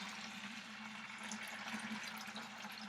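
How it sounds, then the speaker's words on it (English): Water siphoned through a hose out of a reef aquarium during a water change, a steady close rushing and gurgling flow with a low hum underneath, continuous throughout. "Basically, you want to start a siphon and"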